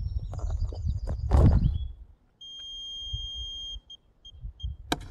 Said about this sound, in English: Turn on, you should hear 3 beeps. That tells you it's ready to go.